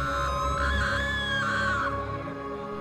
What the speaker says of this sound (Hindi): कि तभी एक चीख मंदिर में गूंजी।